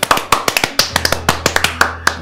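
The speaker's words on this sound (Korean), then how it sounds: "박수를 오랜만에 듣는 기분이 드는데요" Applause from a small studio audience at a talk show comes as scattered, crisp hand claps in an uneven rhythm, close and fairly loud, with no voices over them.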